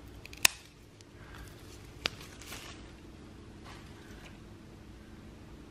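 Scissors snip through a houseplant stem for a propagation cutting, two sharp isolated clicks spaced a couple of seconds apart over a quiet room hiss.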